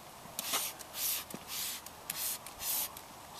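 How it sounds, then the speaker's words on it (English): Several short hissing bursts from a spray bottle, spaced unevenly, fairly quiet and close, with no talking. "Spray it and leave it"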